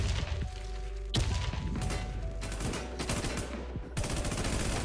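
Rapid bursts of automatic gunfire from the shooter game Warz Deadzonez, loud overlapping volleys with heavy booming thumps, repeated in dense clusters across a few seconds without talk.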